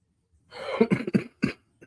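A person coughs several times in quick succession, close and fairly loud, with a throat-clearing rasp and a short final cough.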